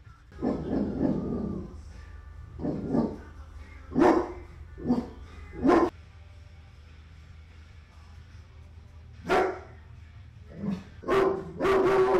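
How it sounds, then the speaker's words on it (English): Dog barking indoors at a splitting maul delivered in the mail, several loud, close barks and yips in uneven bursts separated by short pauses. "I just got a splitting maul in the mail. That's what Chip was barking at."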